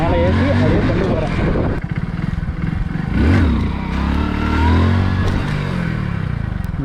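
A Hero Splendor motorcycle engine during stunt practice, loud and close, its note rising and falling as the throttle is eased on and off while the bike is rolled slowly up and over.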